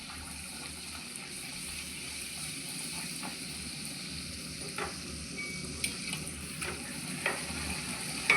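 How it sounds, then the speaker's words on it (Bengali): A luchi deep-fries in hot oil in a kadai, giving a soft, steady bubbling sizzle with small pops. The frying is fairly quiet and close, with no talk. "এই লুচিটাও ভেজে নেব।"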